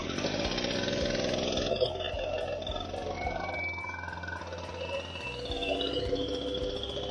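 A STIHL TS420 concrete cutting saw's two-stroke engine fires and runs loud and close, a steady buzzing drone with rough idle pulses and throttle changes, and a voice talks briefly over it.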